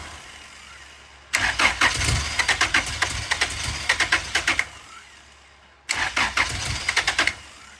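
A 2000 Acura Integra GSR engine cranks with rapid rhythmic starter pulses for several seconds, stops, then cranks again in a second shorter burst. It is close and loud, with quiet pauses before and between attempts.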